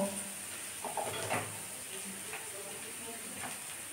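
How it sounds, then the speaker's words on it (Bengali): Onions sizzle and fry in a pan as a vegetable club sandwich filling cooks, a steady hiss broken by a few stirring scrapes and soft clatters, close and fairly even throughout. "ভেজে নেব। ভেজে নিয়ে তোমাদের আমি আবার দেখাচ্ছি।"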